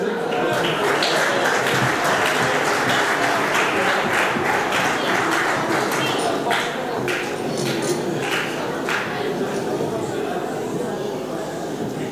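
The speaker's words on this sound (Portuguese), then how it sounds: "uma duração de 40 minutos e o nosso aplauso." Audience applause at a Carnival 'bailinho' dance-and-song performance by a 25-member group, dense and steady for the whole stretch with scattered sharper claps and crowd murmur underneath.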